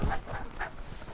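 A dog on a ranch gives a few short barks and whimpers, close to the microphone in brief bursts over a quiet background with no talking.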